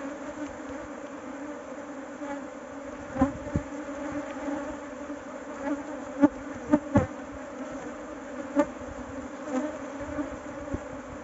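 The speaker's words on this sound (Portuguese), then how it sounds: "Quando o enxame tá tão grande assim, a gente não consegue fazer o controle direitinho." Dense, steady buzzing of a large honeybee swarm during a honey harvest, close and continuous for the whole stretch, with brief sharper bursts as bees pass near; no voices.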